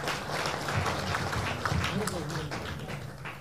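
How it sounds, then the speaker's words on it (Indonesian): Audience applause at a national campaign team announcement in Indonesia, a dense wash of clapping with voices mixed in. "Tim Kampanye Nasional Bapak Nusron Wahid, kita beri tepuk tangan"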